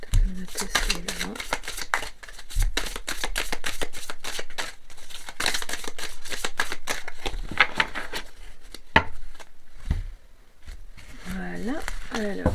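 Tarot cards are shuffled and drawn close to the microphone in rapid, crisp riffling bursts with brief pauses, and a voice speaks at times between them.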